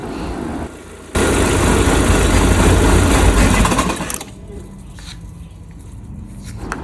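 A Proton Saga FLX car engine runs with a steady rumble, surges louder for a few seconds, then cuts out after its fuel filter is removed, leaving a quieter background with faint chirps.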